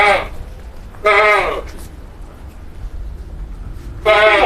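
Peranakan Etawa goats on a breeding farm bleat loudly and close by: three harmonic, wavering calls with pauses between them, over low background noise.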